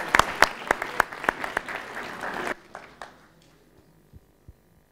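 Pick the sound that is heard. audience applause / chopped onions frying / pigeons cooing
audience applause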